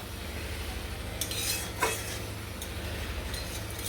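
Spice paste fried and stirred in a pan for a prawn dish, with a steady low sizzle and hum and a few light scrapes and clinks of a utensil against the pan, close up.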